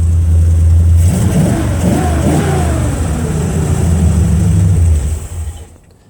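A square body car with a damaged motor idles and revs roughly, loud and close, its rumbling engine climbing and settling before shutting off and fading near the end.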